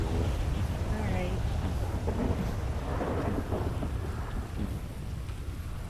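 A thunderstorm in a roleplay video game, with continuous heavy rain and rolling rumbles of thunder filling the background at a steady, moderate level.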